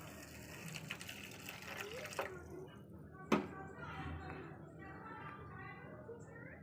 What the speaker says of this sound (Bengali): এটা আমি অল্প জল দিয়ে একটু মিশিয়ে নেবো